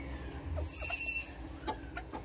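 A hen clucks a few times in a coop, short throaty calls over a low background hum, moderately close and without speech.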